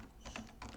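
A quick burst of keystrokes on a computer keyboard, two short clusters of soft clicks heard close and quiet with no talking.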